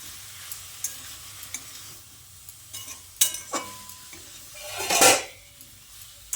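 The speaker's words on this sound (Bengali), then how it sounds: "তারপর সব কিছুকে মশলার সঙ্গে ভালোভাবে নেড়ে চেড়ে মিশিয়ে নিতে হবে।" A spoon stirs boiled bottle gourd greens, soybean chunks and vegetables with spices in a pan, making irregular scrapes and metallic clanks. One louder scraping rush comes near the end over a faint low sizzle.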